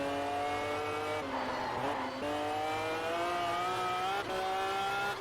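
A tuned Saleen S7 in Test Drive Unlimited holds a loud, steady, buzzing engine note close up near the rev limiter, with brief dips and re-rises in pitch and some tire squeal.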